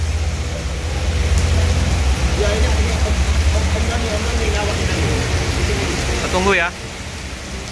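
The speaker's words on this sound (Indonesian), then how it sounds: "Hujan deras." Heavy rain pours steadily in Palembang, a dense, even hiss close by that runs the whole clip, with a brief talking voice and a passing vehicle near the end.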